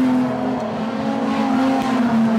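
Street stock race cars roar around a speedway oval at Cullen Bullen Raceway, making a loud sustained engine drone with a steady pitch and no voices.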